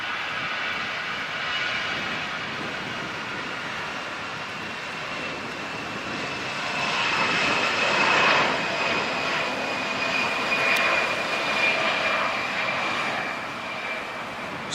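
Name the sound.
Delta Airbus A319 jet taking off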